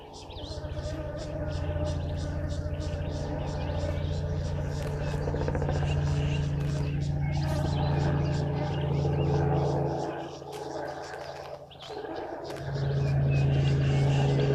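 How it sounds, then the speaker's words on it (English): Helicopter flying over a wildlife waterhole, a continuous low droning hum with rhythmic rotor chop, fairly steady with a brief dip midway, under a person talking. "Yes, you are hearing a helicopter. They're doing some assessments of the area."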